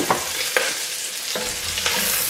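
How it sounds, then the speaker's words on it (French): Potatoes and celery sauté in a pot with a loud, steady sizzle, broken by a few scraping stirs of a utensil and no talking. "On va les faire revenir pareil 1 minute."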